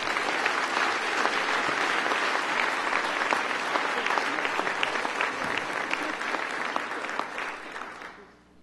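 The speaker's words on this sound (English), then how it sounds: "I just wanted to make it clear how loud I clapped when Dean Montgomery was up here" Sustained applause from an audience at the grand opening of a civic resource center, steady dense clapping for several seconds with no talk, then tapering off at the end.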